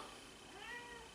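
A house cat meows briefly and faintly indoors, a single drawn-out, wavering call standing alone over a quiet background.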